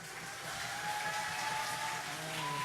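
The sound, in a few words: audience applause and cheering in church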